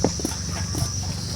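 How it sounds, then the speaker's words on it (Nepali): Horse hooves clip-clopping at an outdoor basecamp in natural surroundings, a few soft, irregular steps close by over a steady background hiss. "घोडा घोडा"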